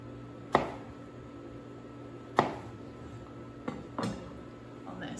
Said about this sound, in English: And I'm gonna do like quarter inch slices again.